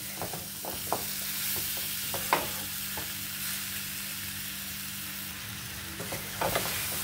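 Jaggery melting in a pan over a low gas flame while being slowly stirred for a sweet-sour amra pickle, with soft scraping spoon strokes and a few clicks over a steady low sizzle.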